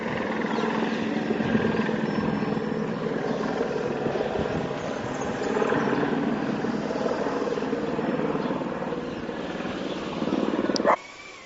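Steady loud rotor thump and engine roar of a helicopter passing nearby, sustained throughout before cutting off abruptly at the end.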